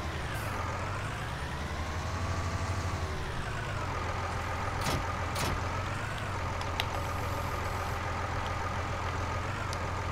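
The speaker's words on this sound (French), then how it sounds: "tant que j'ai ce tracteur" A tractor engine runs steadily for ten seconds with a low droning rumble and a shifting mechanical whine, plus a few brief clanks, close by in a garden landscaping setting.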